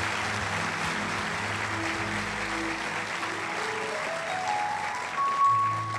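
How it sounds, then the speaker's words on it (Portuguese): Church congregation applauding the team at a worship service, a broad steady wash of clapping throughout with organ or keyboard tones sustained beneath and rising toward the end. "Aplaude mais forte esse time."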